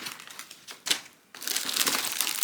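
Crinkling and crushing of a cut-open cardboard Sephora shipping box being unpacked, loose rustles, then a brief pause before a sustained, denser stretch of paper and cardboard handling, close and fairly loud, no talk.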